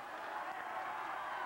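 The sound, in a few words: basketball crowd cheering in Knott County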